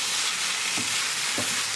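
Matar paneer bhurji fries over high gas, a steady bright sizzle filling the clip while two short scraping strokes of stirring break through near the middle and end.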